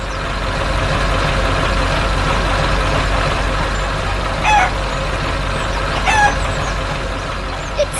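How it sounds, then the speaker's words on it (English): Chickens clucking and a rooster calling over a loud steady engine rumble like a truck or tractor, with two brief squawking bursts standing out near the middle and end, no speech. "Our furry friend is helping the chickens get to their new home."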